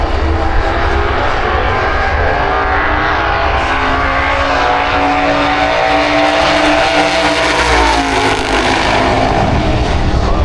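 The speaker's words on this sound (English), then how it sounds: "John Bean is going to be the one that leaves the line second" Drag racing cars, including a Ford Maverick, roar loudly and continuously down the strip at Santa Pod Raceway during a festival of power event, with a dense, sustained engine blare and no talking.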